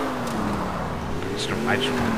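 A 1969 Dodge Charger Daytona in GTA IV accelerating hard in second gear, its engine drone rising steadily in pitch and staying loud and close beneath someone talking.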